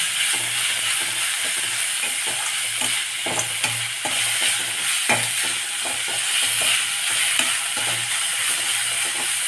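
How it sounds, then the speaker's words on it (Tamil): Chopped ivy gourd fries in a kadai with a steady broadband sizzle, while a spoon scrapes and stirs in repeated clinking strokes close by, with no talking. "சீக்கிரமாக ஃப்ரை ஆகிடும்"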